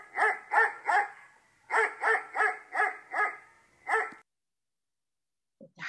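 A dog barks in a storybook reading, a run of three sharp barks, a short pause, then six more in a steady rhythm, close and loud and alone, followed by a brief faint sound at the end.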